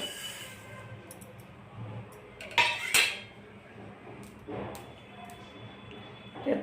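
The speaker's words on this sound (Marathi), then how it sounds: "आता आपण पांढरे तीळ भाजून घेत आहोत" White sesame seeds dry roasting in a pan for a Bhogi mixed vegetable dish, with a soft hiss and occasional sharp metallic clinks and scrapes of a spoon against the pan.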